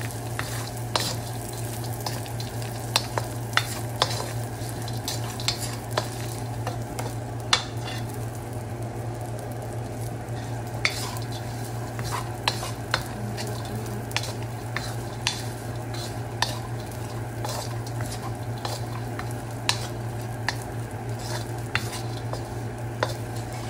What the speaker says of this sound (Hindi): किशमिश डालने लगे, हल्का सा इसको भूनना है